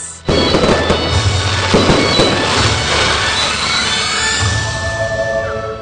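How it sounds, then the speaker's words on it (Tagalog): Dense, continuous fireworks crackling and booming at a finale show in Ilocos Norte, loud and sustained, with bursts piling over one another in a rolling roar. "At ang pasabog sa finale. Fireworks!"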